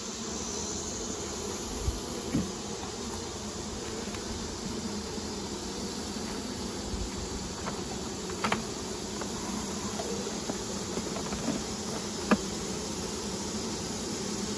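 A dense, steady buzz of many honey bees on a hive frame during a varroa mite alcohol wash check, close and continuous, with a few faint clicks and knocks now and then.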